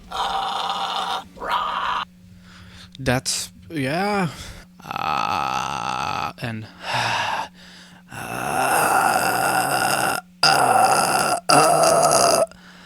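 A vocal fry scream demonstration mixes gritty, rasping screams and growls with sliding vocal sweeps, broken by short pauses and brief bits of talk, all loud and close.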